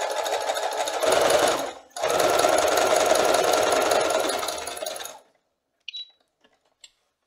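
A domestic sewing machine runs a wide zigzag test seam on pillowcase fabric, sewing in two steady whirring bursts with a short pause between, then stopping and leaving a few faint clicks.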